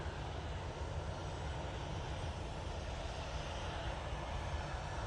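At Manchester Airport a Ryanair jet airliner takes off, giving off a steady, distant engine roar with a low rumble, fairly faint and continuous.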